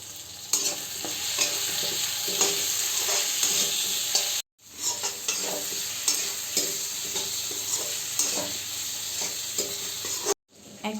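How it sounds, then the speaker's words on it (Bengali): Potatoes fry in hot oil for a katla fish curry, giving a loud, continuous sizzle with repeated stirring scrapes and two brief drops to silence. "এখন দিয়ে দিচ্ছি আলুগুলো"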